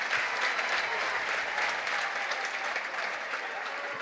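Home crowd applauding at a high school boys basketball game in a gym, sustained steady clapping with a commentator's voice faintly underneath.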